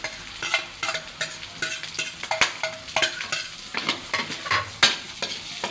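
Sliced onion sizzles in hot oil in a frying pan while cooking Bicol Express, with steady crackling broken by repeated scraping and clinking stirs of a utensil against the pan, close and moderately loud, no voices.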